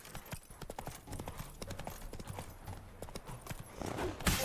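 Horse galloping in the video game The Witcher 3, a steady rhythmic run of hoofbeats that stays close and fairly loud for the whole stretch, then swells louder at the end.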